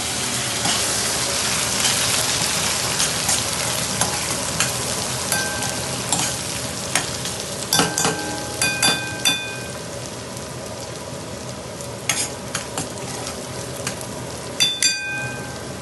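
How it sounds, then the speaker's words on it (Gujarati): Ginger, chilli and ginger paste sizzle hard in hot oil for a honey chilli potato dish, a loud steady frying hiss scattered with sharp pops and crackles throughout, with no voices. "હવે આપણું તેલ ગરમ થઈ ગયું છે. એમાં આપણે આદુ, મરચાં અને આદુની પેસ્ટ નાખીશું."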